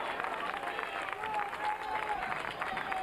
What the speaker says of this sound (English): The St. Xavier fans are clapping hard, cheering on, sensing that they can pull out a win here